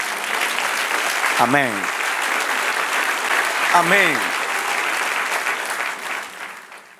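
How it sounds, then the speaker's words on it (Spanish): A church congregation claps steadily through the whole stretch, a dense even wash of applause, while a preacher calls out twice over it. "Dale un aplauso al Señor."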